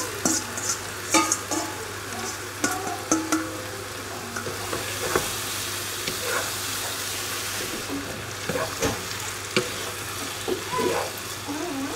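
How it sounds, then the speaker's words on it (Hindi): Okra frying in oil in a home kitchen pan, a steady close sizzle with scattered crackles and a few sharper clicks of stirring, no voices over it. "फिर आपने भिंडियाँ डाल देंगे। तो भिंडियों में भी तेल है।"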